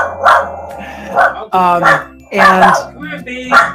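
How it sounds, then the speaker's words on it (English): A pet dog barks several times in a domestic room, sharp repeated barks and yips at close range, mixed with speech from people nearby. "Oh, sorry, it's my dog."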